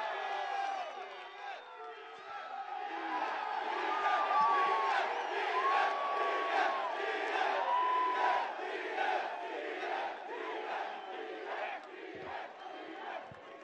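A packed crowd at a UFC 263 press conference roars and whoops continuously for over thirteen seconds, a loud sustained wash of cheering with individual shouts rising out of it.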